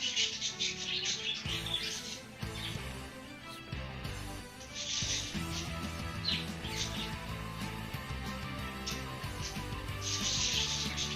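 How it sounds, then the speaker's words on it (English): Birds chirp in a garden age of the video game Myst Online: Uru Live, bright high tweets coming in repeated bursts over steady background music. "And yes, we have birds, Ro."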